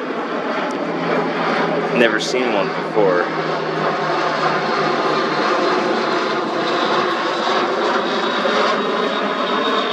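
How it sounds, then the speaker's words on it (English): A COD carrier-delivery propeller aircraft flies over San Diego, its steady engine drone loud and continuous throughout, while a person speaks briefly over it. "This is a COD aircraft. It delivers mail and cargo and personnel and whatnot to aircraft carriers."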